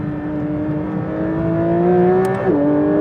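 Porsche GT3 RS engine idling just after a cold start, a steady close-up hum with layered harmonic tones that hold level, then drop slightly in pitch near the end as the revs settle.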